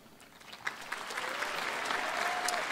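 Audience at a college diploma ceremony breaking into applause for event staff and ushers, clapping building from a few sharp claps into a steady, full round.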